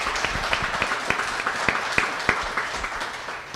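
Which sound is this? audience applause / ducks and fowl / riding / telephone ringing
audience applause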